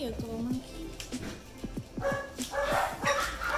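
A dog whimpering and giving short yips and barks at a vet visit after a blood draw, close and repeated, mixed with someone talking to it.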